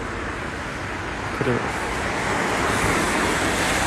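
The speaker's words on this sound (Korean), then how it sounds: "차 소리가 시끄럽진 않으신지" Constant broadband roar of road traffic passing nearby on a snowy street, a steady wash of car noise with a brief faint voice near the middle.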